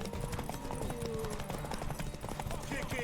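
A horse galloping in The Witcher 3, with steady hoofbeats and ambient game sound under a voice.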